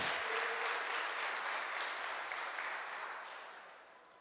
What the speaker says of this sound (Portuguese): Quem recebeu isso, glorifica bem forte, aplauda ao Senhor.